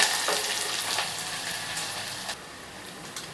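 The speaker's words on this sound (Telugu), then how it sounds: "ఇప్పుడు ఆనియన్ ముక్కలు వేస్తున్నాను" Onion pieces hit hot oil with fenugreek and cumin seeds for an okra curry, setting off a loud, dense, continuous sizzle with a few stirring scrapes, close and without speech.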